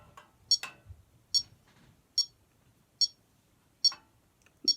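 A metronome ticks at a slow, even tempo, with six sharp, close clicks spaced under a second apart and quiet gaps between them.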